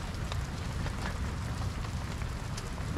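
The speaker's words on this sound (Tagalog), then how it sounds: "Ayan siya, umuulan." Steady rain falls at a beach resort, a dense, even hiss of drops pattering on nearby surfaces, close and unbroken, with no voices.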